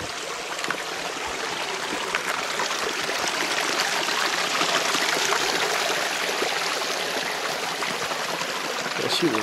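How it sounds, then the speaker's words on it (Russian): A small stream flowing beneath a large stone, a steady close trickling rush with no pauses, while people talk faintly in the background. "Сеет камень на камне. И под ним ручей."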